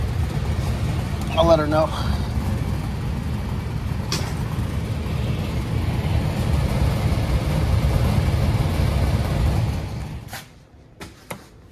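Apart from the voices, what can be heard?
furnace fan motor hopping around, Trane LP furnace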